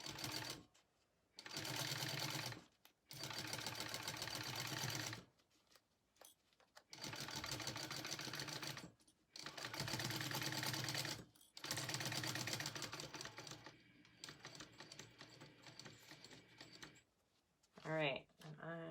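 A sewing machine stitches the curved seam of a handmade wallet in several bursts of rapid, steady whirring separated by pauses, with a person talking softly between runs.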